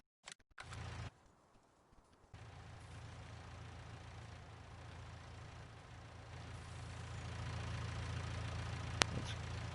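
A tractor engine idles in Farming Simulator 19, a steady low mechanical hum that drops away briefly and then returns, holding constant with a short click near the end.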